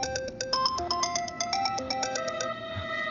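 A phone ringtone plays in an action movie scene, a steady electronic melody of repeated bright tones running continuously at moderate loudness with no talk over it.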